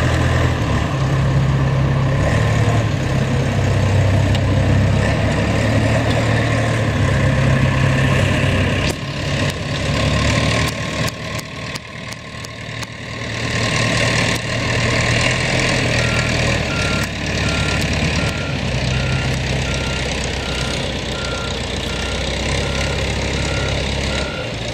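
A snow removal truck with a straight pipe backs up, its reversing alarm beeping steadily over a loud rumbling engine idle in a winter street scene in Montreal.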